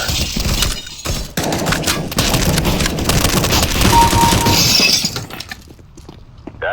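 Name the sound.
gunfire in the video game Counter-Strike: Global Offensive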